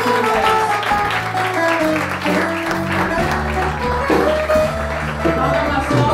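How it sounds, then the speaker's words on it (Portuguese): A church congregation applauds, the claps blending with loud music that carries on throughout. "Vamos aplaudir ao Senhor que Ele merece."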